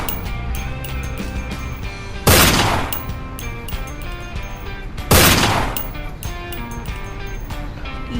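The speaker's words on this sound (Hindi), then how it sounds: "वाह, क्या गन चलाते हो।" Gunfire from a Hindi action film scene, two loud sharp bursts of shots a few seconds apart standing out over a constant background music bed.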